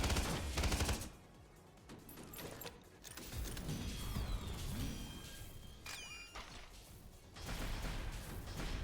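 Kaida Nailgun in the shooter game Synthetik 2, rapid bursts of loud mechanical firing mixed with impacts, metallic clanks and chirping effects, repeating in clusters over several seconds.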